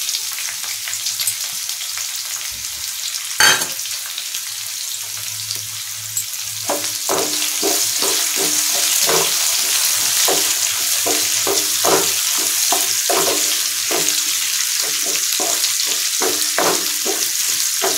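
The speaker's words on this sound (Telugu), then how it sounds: "ఉల్లిపాయ కూడా వేసేసుకుందాం." Onion fries in a pan alongside ivy gourd, a loud, dense, continuous sizzle that swells after a sharp clatter and keeps crackling with rhythmic stirring scrapes, close up.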